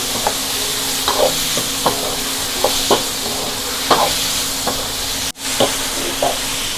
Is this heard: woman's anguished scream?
no